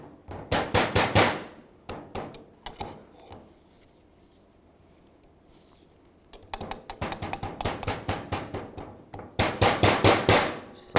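Rapid bursts of sharp metallic hammer taps on a CV boot clamp, close and loud, in quick rhythmic runs separated by a quieter pause, during a CV joint rebuild on a 2010-2017 Chevrolet Equinox.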